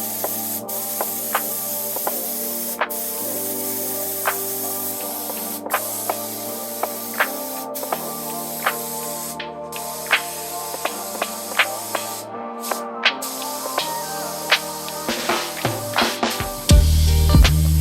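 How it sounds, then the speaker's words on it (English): A spray gun laying down TotalBoat high build primer on catamaran build surfaces, a steady close hiss running throughout with faint clicks and clatter, growing louder near the end. "it was time to use Colby's spray gun to get our total boat high build primer on the surfaces."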